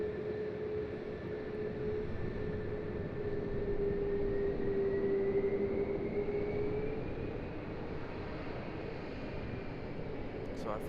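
An Airbus airliner passes at Raleigh-Durham International Airport with a steady, loud jet roar and a sustained engine whine that slowly shifts in pitch across the whole stretch.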